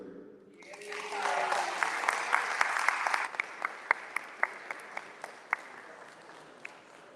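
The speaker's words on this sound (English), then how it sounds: "I'll get another round of applause for my man here" Applause from an audience at a high school signing day, a steady burst of clapping that swells, then thins to scattered individual claps and fades out.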